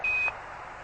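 Apollo 11 lunar module program alarm during the descent: one short, steady high beep tone lasting about a quarter second, then cutting off and leaving faint background hiss.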